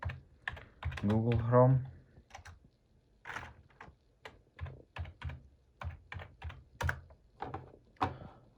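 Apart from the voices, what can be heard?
typing on a computer keyboard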